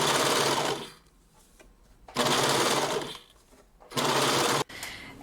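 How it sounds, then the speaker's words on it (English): An overlocker sews a gathered puff sleeve seam in three loud, steady bursts of whirring stitching, separated by brief quiet pauses. "I'm gonna go and overlock it now."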